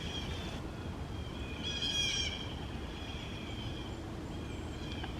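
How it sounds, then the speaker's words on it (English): An unidentified bird calls outdoors, a faint, distant high warbling that swells briefly in the middle and sits over steady low background noise, with no voices. "I do not know what kind of bird that is."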